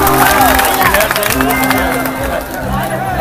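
A large audience at an outdoor Bhojpuri stage show applauds and cheers loudly, a dense, continuous wash of clapping and crowd noise with voices mixed in that stays loud throughout and dips only slightly near the end.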